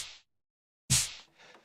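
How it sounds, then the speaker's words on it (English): Two snare drum hits from the Fatty 1 kit on a Roland FA-07 keyboard, a short bright crack followed after a pause by a louder, fuller hit with a quick release, heard alone. "Drum kit I've used for the snare is called Fatty 1."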